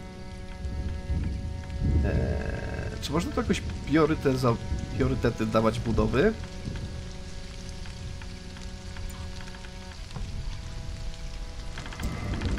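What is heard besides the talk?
rain in video game Stranded: Alien Dawn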